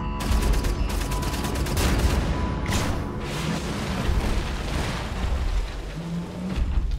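Sustained, loud automatic gunfire in Wolfenstein: The New Order, a continuous barrage of overlapping shots and blasts during a boss fight in London, with no pause throughout.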